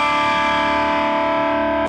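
A distorted electric guitar sustains a pull-off on the first string alongside the open first string, both sounding the same note in a lick, ringing alone and loud with a steady buzzing tone.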